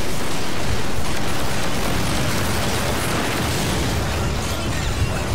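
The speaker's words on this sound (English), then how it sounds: "Fires massive rockets." Massive rockets from a pincered boss in Lost Planet blast in a dense, continuous roar of explosions that fills the whole stretch, loud and unbroken.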